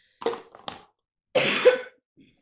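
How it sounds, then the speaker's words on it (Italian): Two short coughing bursts close to the mic, followed by a longer, harsher cough after a pause, with a faint rustle at the end. "Come potete vedere ho ancora la tosse."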